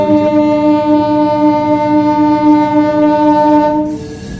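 Howrah–Amta local train running, its horn sounding a long, loud, sustained blast over the steady rumble of the moving carriages, fading near the end.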